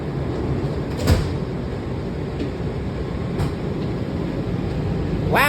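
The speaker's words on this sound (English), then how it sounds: "Doors closing." Doors of a Washington Metro train at Southern Avenue Station slide shut with a thud, followed by a second softer door knock and a rising whine as the train readies, all over steady car rumble.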